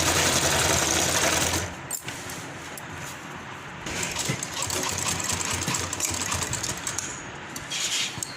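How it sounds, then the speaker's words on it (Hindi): Sewing machine stitching a border onto the hem of a kurti, a steady close whirring run that pauses briefly near two seconds and again around four before resuming. "इसी तरह मैं इस पूरे बॉर्डर को इस पे बिठाती हुई सिलाई लगा दूँगी।"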